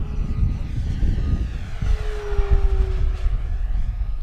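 An FMS P-40B Flying Tiger 1400mm RC model warbird, electric on a 4-cell pack, makes a fast pass, its steady motor and propeller drone rising and shifting in pitch against outdoor wind.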